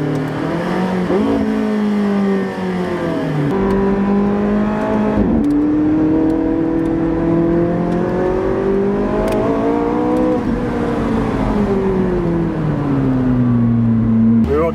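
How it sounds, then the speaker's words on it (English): A McLaren 675LT Spider's exhaust revs up and down in smooth rising and falling sweeps, with a few sharp pops on the downshifts, heard from inside the car with faint talk. "with the downshifts, you're getting some of those pops and crackles which I didn't get in the 12C"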